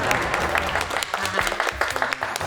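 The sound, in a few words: studio audience applause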